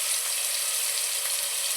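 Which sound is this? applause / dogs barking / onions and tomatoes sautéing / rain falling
onions and tomatoes sautéing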